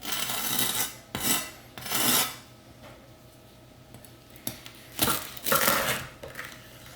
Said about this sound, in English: that is a beautiful, crisp piece of grilled cheese